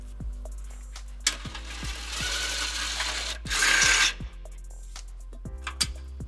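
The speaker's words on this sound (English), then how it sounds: "we can use a 12mm socket to get the other 2." A 12mm socket ratchet loosening bolts from a bracket during a trailer hitch install on a 2013 Nissan Xterra: sparse clicking ratchet strokes and metallic ticks, with bursts of louder scraping and rustling in between, fairly quiet and close.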